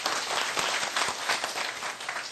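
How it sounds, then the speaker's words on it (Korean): Steady applause fills a room at a government office's monthly open staff meeting, a dense, even patter of clapping hands lasting a couple of seconds. "박수 한번 주시죠."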